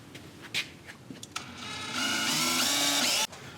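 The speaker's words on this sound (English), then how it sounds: "I got a little drill bit to do a pilot hole" Small drill bit boring a pilot hole for mounting parts on a Ford, a brief whir that rises into a steady high-pitched drilling drone for about a second and a half, then cuts off abruptly, close and without talk.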